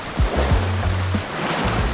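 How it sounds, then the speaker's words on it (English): A sailboat on the Indian Ocean crashes through building seas, with loud, continuous rushing water and wind noise close by and low thumping beneath. "We tack over and Nakama pummels through developing seas."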